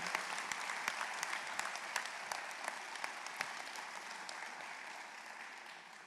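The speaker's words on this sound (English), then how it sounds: "Yeah, I think it deserves some applause." A crowd at a medical school white coat ceremony bursts into applause, a dense wash of many hands clapping steadily. It is loud at first, then gradually fades, with no talk over it.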